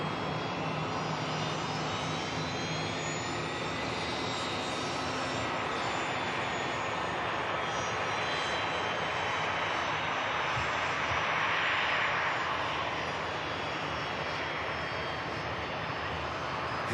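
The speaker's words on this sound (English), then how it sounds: "Junyao on the takeoff roll." A Juneyao airliner's jet engines roar steadily on the takeoff roll at Manchester Airport, a loud, dense wash of sound that holds for the whole stretch and swells slightly near the end.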